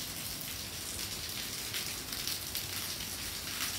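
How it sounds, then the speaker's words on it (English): Rain falls at night in a soft, constant hiss, a steady patter of drops with no voices. "It's raining."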